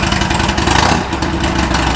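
A Harley-Davidson motorcycle engine fitted with a Cobra El Diablo 2-into-1 exhaust idles close by, a loud, deep, rumbling beat of pulses that swells briefly, alone with no talking.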